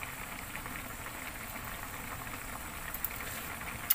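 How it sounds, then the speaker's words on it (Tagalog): Seafood rice cooking liquid boiling in a pot, a soft steady bubbling hiss with a few faint pops near the end, quiet and close. "Ooh, kumukulo na siya, guys."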